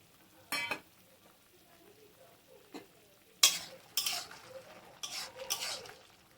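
Raw papaya chutney with cashews and raisins bubbling in a pot: quiet simmering between a few sharp scraping stirs and clinks of a spoon, with the louder bursts coming toward the end.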